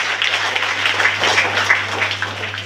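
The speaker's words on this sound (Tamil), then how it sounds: "நல்லா கைத்தட்டலாம்" Audience clapping in a hall after a young woman's name is announced, a dense, steady patter of many hands sustained at moderate loudness over a low electrical hum.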